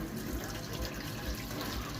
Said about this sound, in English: put some boiling water on it